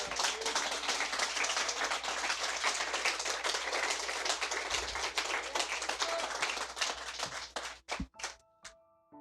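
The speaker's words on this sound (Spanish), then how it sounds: "Dele un aplauso al Señor." A church congregation breaks into dense, steady clapping praising the Lord, which holds for several seconds before thinning into a few scattered claps and thumps at the close.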